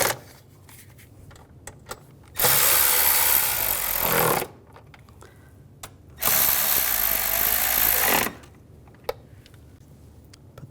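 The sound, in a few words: tightening fasteners on a BMW 550i V8 engine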